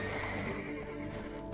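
A horse neighs in the video game Black Desert Online, a single whinny close up over a dull background hum, with faint hoof sounds beneath.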